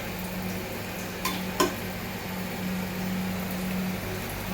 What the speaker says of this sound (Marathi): असं फ्राय होत आलं की मग आपल्याला मटण टाकायचं